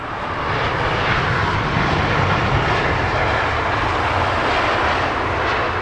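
An Air Canada Boeing 787-9 airliner inbound from Toronto arriving at London Heathrow, a loud, steady jet engine roar holding continuously throughout.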